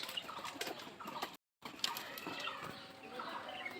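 Pigeons on a pigeon farm coo and flutter close by in a steady, busy murmur of birds, with a brief silent gap partway through and no talk.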